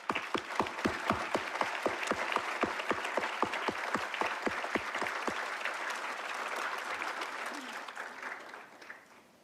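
Graduation audience at a college commencement ceremony claps for graduates' families: dense applause mixed with a run of loud, evenly spaced single claps near the microphone that stop midway, the crowd clapping on and fading to quiet.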